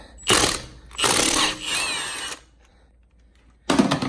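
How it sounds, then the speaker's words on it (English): Milwaukee power tool taking lug nuts off a Lexus GX470, three loud close bursts of ratcheting mechanical whirring with quiet gaps between them. "So here I am removing the lug nuts."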